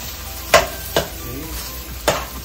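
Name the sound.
egg fried rice being tossed in a pan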